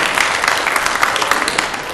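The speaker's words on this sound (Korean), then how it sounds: "박수 하나 했습니다." A church congregation applauding, dense steady clapping from many hands filling the room, close and loud for the whole moment.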